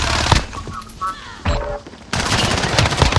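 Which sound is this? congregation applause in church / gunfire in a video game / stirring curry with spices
gunfire in a video game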